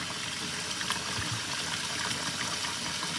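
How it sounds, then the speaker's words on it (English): Apple cider vinegar pours steadily from a jar into a bag, a continuous close liquid splash and trickle running the whole time with no talk. "So I'm going to pour more vinegar in here."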